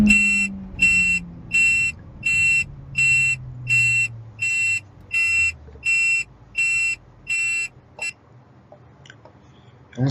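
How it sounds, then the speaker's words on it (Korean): A car's emergency warning buzzer sounds in a pedal-misapplication safety test, a loud, even series of about eleven electronic beeps while the engine drone winds down to a stop beneath them. "비상경보 부저가 울리며 차량이 완전히 정지하는 모습까지 확인할"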